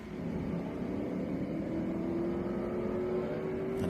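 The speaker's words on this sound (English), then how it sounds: "this is going to be lots of muscle car noise as they come out of 20 and up that main grandstand" Muscle race cars rumble onto the front straight at the start of an SVRA race, a steady, distant engine drone with one rising engine note as a car begins to accelerate, with no voices.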